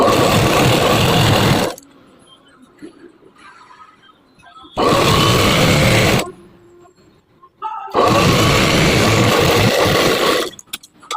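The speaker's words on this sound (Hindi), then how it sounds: "हम यहाँ पे नीचे भी हम सिलाई लगा देंगे आधा इंच की दूरी रख के" A sewing machine runs in three loud, steady bursts, stitching the bottom hem of a princess-cut blouse, with quiet pauses and faint handling sounds between them.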